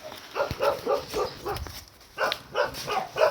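A dog barks in repeated bursts along a rural path where people walk asking directions, the barks moderately close with short gaps between them.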